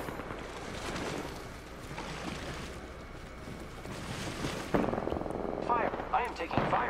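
Gunfire and an incoming airstrike in the battle royale shooter Apex Legends, a dense rumbling barrage of blasts and shots that swells louder partway through, with rough outdoor ambience and some speech mixed in.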